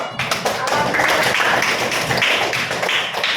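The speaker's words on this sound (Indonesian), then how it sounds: "Oke, berikan aplaus dulu." A classroom of students applauds together, a dense, steady clatter of many hands clapping that fills the room for several seconds, with no talk over it.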